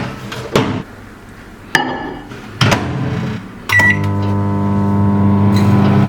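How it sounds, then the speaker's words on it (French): A microwave oven heating a small bowl of butter and chocolate for brownies: several clicks and door or button knocks, then the steady close hum of the oven running on its own. "nous allons emmener ce joli petit bol au micro-ondes"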